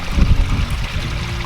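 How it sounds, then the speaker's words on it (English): An RV travel trailer's black water tank drains through an opened valve, giving a steady, close, gushing and pouring rumble with a dense low churn that runs without a break and has no talk over it. "pull the black water and let the black water drain"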